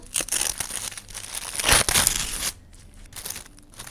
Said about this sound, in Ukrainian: Ось такий пакетик з акселотлем ми сьогодні з вами відкриваємо